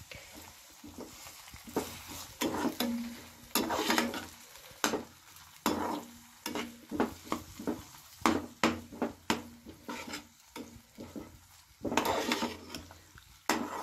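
Soft juicy tomatoes stirred into okra masala frying in a pan, with repeated scraping and clinking of a spoon against the pan over a steady sizzle, irregular strokes close by and no voice.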